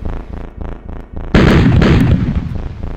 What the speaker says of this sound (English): He just shot at the fence in front of him